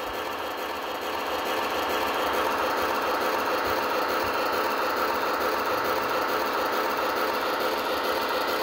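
A Scale Williams model train engine, converted to battery-powered dead rail on three-rail track, hums and whirs steadily as it throttles up, a continuous close mechanical drone with faint rattling underneath.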